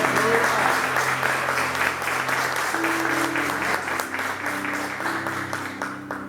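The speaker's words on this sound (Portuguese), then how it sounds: "Dê um forte aplauso ao Senhor" A church congregation applauds during a worship service, a strong sustained clapping that holds steady while sung or hummed tones drift underneath.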